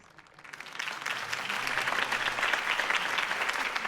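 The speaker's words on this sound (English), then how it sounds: "If only Mr. Wayne, my campaign's largest backer, could have heard that applause" Crowd applause for a campaign speech in the Batman Telltale Series video game, a dense wash of clapping that swells in after a quiet start and holds steady and loud throughout.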